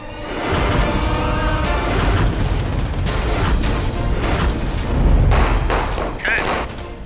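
Firecrackers set off by a group of boys outdoors, a loud rapid barrage of cracks and bangs running nearly continuously, with heavier thumps mixed in and voices talking underneath.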